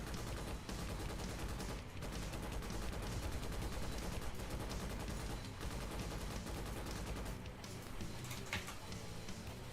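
Machine gun fire from Starship Troopers: Extermination rattles in dense, continuous rapid bursts at a steady level, with only brief gaps, and no voices over it.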